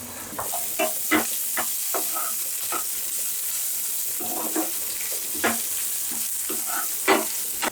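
Spices, dried chilli and small shallots sizzle in a hot pan for a Kerala fish kootu, with a steady frying hiss broken by frequent sharp clinks and scrapes of a stirring spoon.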